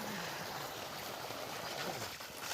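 Water rushes out of a 2-inch pipe fed by a 1500W solar-powered BLDC pump drawing from a 50-foot open well on farmland, a steady, fairly soft hiss and splash with no breaks and no talking.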